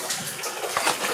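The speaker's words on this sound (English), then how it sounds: "There's a little bit of water running down from somewhere." Water trickling and running down inside an underground passage, a soft, steady wash of broadband noise with faint splashes, heard fairly close and alone.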